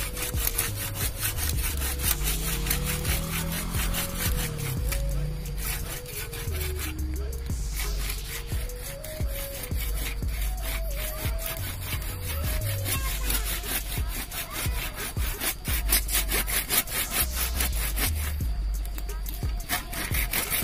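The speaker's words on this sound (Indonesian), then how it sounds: "Kita langsung potong saja dengan gergaji." A hand saw rasps through a tamarind branch in steady back-and-forth strokes, close and continuous, with a voice speaking now and then.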